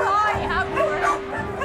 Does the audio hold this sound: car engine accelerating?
no